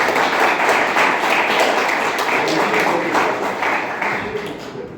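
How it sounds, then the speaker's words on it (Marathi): Audience applause at a Marathi theatre convention: a loud, dense wash of many hands clapping together, steady at first and slowly fading toward the end. "सगळ्यांनी एकदा टाळ्या वाजवून"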